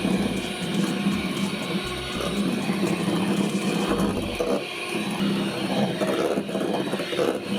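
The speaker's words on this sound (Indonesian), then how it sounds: "kita mixer dengan kecepatan sedang hingga putih telurnya soft peak" Electric mixer at medium speed whipping egg whites and sugar, a steady mechanical whir with a rattling, clicking texture that holds at a fairly even level.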